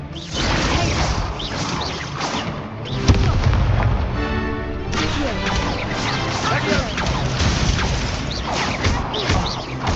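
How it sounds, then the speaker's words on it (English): Confringo fire spells in Hogwarts Legacy burst amid a dense, continuous barrage of booming impacts and crashes during spellcasting combat, loud and close, with a sharp heavy hit near three seconds and a voice shouting over the din. "There goes my Confringo!"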